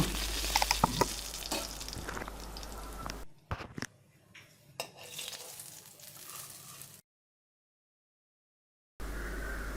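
Dried red chillies fry in a little mustard oil in a hot wok, a crackling sizzle with sharp pops and stirring scrapes, broken by a quieter stretch and a full gap of silence before resuming.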